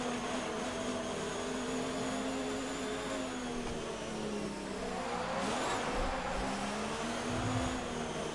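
Race cars in the F1 2019 video game accelerate as the field pulls away behind the safety car, a continuous loud engine whine with rising and dipping pitch, several cars blending into one steady roar.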